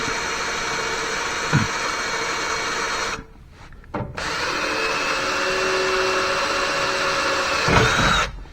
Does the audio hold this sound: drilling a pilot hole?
yes